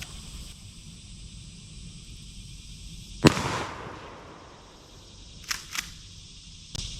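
A single sharp, loud report from a 20 gauge pump shotgun fired outdoors, followed by a short decaying tail, then a few fainter clicks and thumps that fit the pump action being worked.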